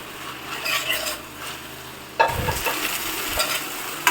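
Chopped capsicum sautéed and stirred in a pan for pav bhaji, sizzling steadily with scraping stir strokes that grow louder and busier partway through, clattering against the pan close up, with no talking.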